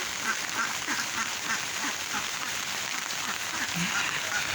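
Ducks at a village duck farm, tethered in the rainy season, quack repeatedly in short, scattered calls against a steady wash of background noise, at a moderate distance.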